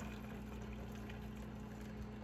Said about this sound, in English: You're going to strain it, but you want to keep some of that pasta water